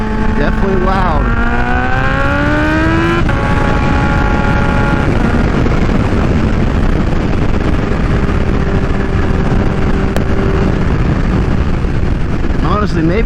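A Kawasaki Ninja H2 with a Vandemon exhaust rides on the highway, its engine revving up in loud rising sweeps with gear changes, then settling into a steady roar under constant rushing wind.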